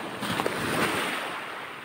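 Broadband wash of ocean waves at a seashore on an overcast morning, a steady soft roar filling the short stretch at low level with no voices.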